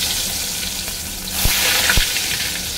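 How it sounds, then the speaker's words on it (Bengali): Eggplant frying in hot oil in a wok, a loud, continuous close sizzle that swells briefly as pieces go in, with a couple of soft knocks and no talk. "তেল গরম হয়ে গেছে, এবারে বেগুনটা ভেজে নিচ্ছি"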